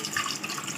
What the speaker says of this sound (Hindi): 2 गिलास के करीब पानी भर के डाल देंगे,